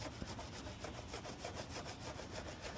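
Rhythmic, steady rubbing and abrasive scraping of a lubricated clay bar on the plastic headlight of a 2012 Chevy Tahoe, repeated back-and-forth strokes at a quiet, even level with no voices.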